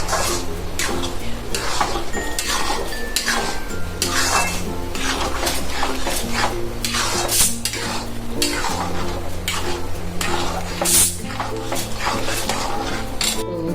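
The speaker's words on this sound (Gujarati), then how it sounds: "અને હવે ઘી છૂટે ને ત્યાં સુધી આપણે ચલાવવાનું છે।" A spoon stirs ormu, a Gujarati sweet, with sugar and ghee in a metal pan, scraping continuously with a soft sizzle underneath, close and loud throughout.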